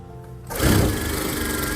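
A sewing machine stitching the fitting seam of a lined kameez: after a quiet half second the motor kicks in and runs as a loud, steady whirring hum to the end.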